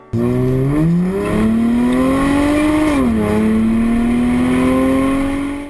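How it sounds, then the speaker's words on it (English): Acura TL with a modified exhaust revving up and holding a steady drone, a loud close engine note that climbs in pitch, dips briefly, then rises again, heard alone. "you can mod the exhaust to get some more noise"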